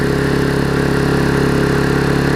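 A Vulcan 18-inch lawn mower's small engine runs at full throttle in a steady, loud, buzzing drone with an even pulsing rhythm, close up and without talk.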